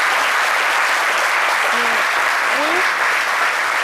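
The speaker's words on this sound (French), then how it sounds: "On m'applaudit?" A room full of people gives steady, continuous applause for a speaker presenting a literature program, with a faint voice briefly audible under the clapping.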